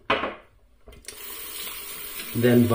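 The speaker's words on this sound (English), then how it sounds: "Let's put some hot water in my sink, get the brush wet," Hot water from a tap pours into a bathroom sink for brush wetting before a shave, a steady close hiss after a brief clatter, with the flow swelling louder near the end.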